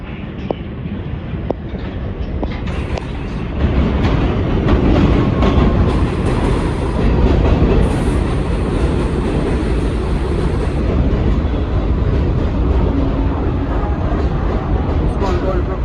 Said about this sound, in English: It's an express train.